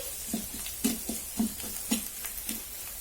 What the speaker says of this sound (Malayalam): ശരിക്കൊന്ന് വഴറ്റിയെടുക്കണേ.